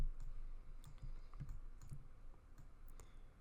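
Mouse clicks during a click-and-drag in a design program, a few faint, sparse clicks over low background noise.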